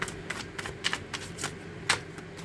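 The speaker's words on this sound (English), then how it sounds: "Get a good shuffle." Tarot cards riffle and slap together in quick repeated bursts, a close, crisp papery shuffling with no talking.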